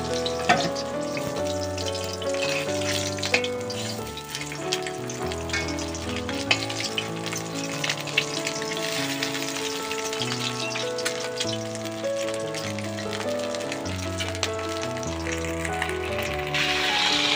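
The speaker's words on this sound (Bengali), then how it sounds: "ডিমগুলো ভাজা হচ্ছে" Eggs fry in hot oil in a pan, giving a steady close sizzle that runs throughout beneath a layer of tonal background music.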